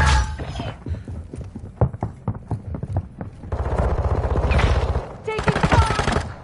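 Bursts of automatic gunfire and scattered single shots crackle through a Call of Duty: Modern Warfare 2 match, with dense rapid firing in the middle and sustained battle noise toward the end.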